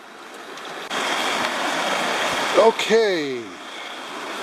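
The South Umpqua River rushes steadily around the feet of someone standing midstream, a constant close wash of flowing water; a voice speaks briefly near the end.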